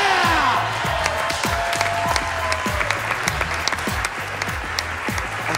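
A crowd at bowling lanes applauds and cheers LeBron James, steady close clapping with whoops and shouts over a recurring low rhythmic thump, lasting throughout.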